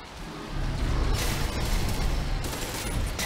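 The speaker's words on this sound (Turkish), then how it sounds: "Kim sıkıyor lan bana?" Dense gunfire from the shooter game Crysis 3 runs steadily for the whole stretch as loud bursts of rapid shots rattle over deep booming rumble, with no speech on top.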